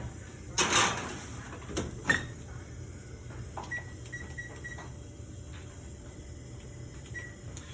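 A chilled pan of cookies goes into a home oven: a clattering thud of metal on the rack, a door closing with a clunk, then small clicks and beeps from the oven controls in a quiet kitchen.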